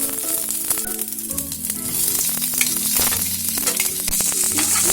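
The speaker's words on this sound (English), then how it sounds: "Once onions fried well, add tomatoes." Sliced onion sizzles in a hot kadai with cumin seeds, ginger and garlic while making kadai paneer: a steady, close, fairly loud frying hiss with low stirring scrapes underneath, no talking.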